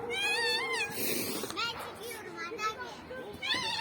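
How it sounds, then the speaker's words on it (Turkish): Repeated high, wavering meows, close and fairly clear, mixed with children's voices and a busy hum of chatter. "O tatlı kedi sesi nereden çıkıyor?"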